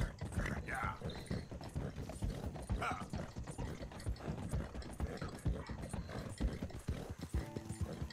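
Horse hooves galloping in the video game Red Dead Redemption II, a steady rapid clip-clop running throughout with someone speaking over it and some mechanical clicking.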